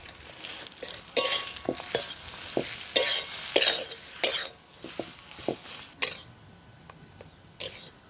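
Spiced potato patty filling stirred in a pan, a series of spatula scrapes and knocks against the metal over a faint sizzle, irregular bursts with short pauses.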